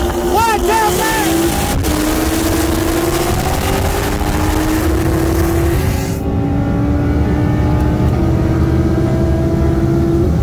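A 2017 Audi R8 V10 Plus and a bolt-on C7 Corvette Z06 running on 93 octane race from a 60 mph roll, with loud engines rising in pitch and roaring hard through the gears amid strong wind rush.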